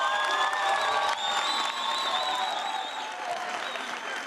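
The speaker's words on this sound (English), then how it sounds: "I think a round of applause for the guys," Sustained audience applause for visiting secondary school students at a televised debate show, a steady dense wash of clapping with some cheering, loud and continuous throughout.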